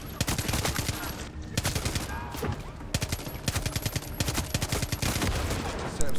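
Rapid rifle gunfire from a Far Cry 6 video game fills the stretch, dense bursts of loud repeated shots with brief gaps, close and continuous.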